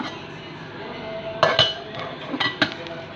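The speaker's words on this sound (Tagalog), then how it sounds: "So ngayon guys, magsasangag tayo ng kanin." A metal utensil clinks and scrapes against a pan while leftover rice is stir-fried, with a few sharp knocks clustered together over a low kitchen hiss.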